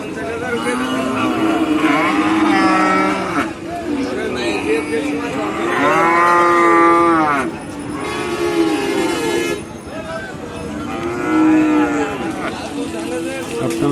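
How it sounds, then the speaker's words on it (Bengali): Cattle at the Shahpur cattle market in Khulna moo loudly and repeatedly, long drawn-out bellows following one another over a busy market murmur. "এখন খুলনা শাহপুর গরু বাজারে"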